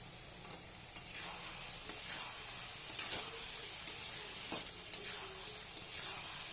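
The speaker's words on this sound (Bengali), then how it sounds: "আবার আমি নেড়ে দেব।" Masala frying in oil in a pan, stirred with repeated spoon scrapes and knocks over a continuous close sizzle, no one talking.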